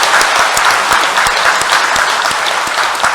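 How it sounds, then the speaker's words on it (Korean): A church congregation at a Mass for the Feast of the Assumption gives a burst of loud, dense welcoming applause to newly baptised members, steady and close with no voices over it. "환영의 박수."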